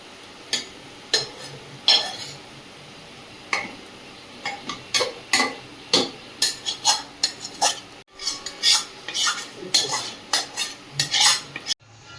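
Mutton that has already been browned is transferred into a pressure cooker with a spoon, making repeated metal scrapes and clinks against the pot, some frying sizzle underneath, close, with no talking.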